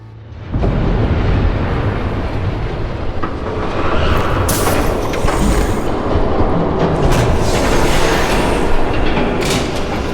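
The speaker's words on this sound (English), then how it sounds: "There's a train coming. Take cover." A train in a Batman video game roars past close by, a loud continuous rumble with rattling wagons and clattering bursts that swells suddenly at the start and holds heavy throughout.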